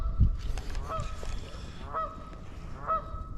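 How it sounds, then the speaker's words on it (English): Geese honk repeatedly near a river, several distinct nasal calls in a loose rhythm about once a second over faint background noise. "Hey, you geese, you're having way too much fun."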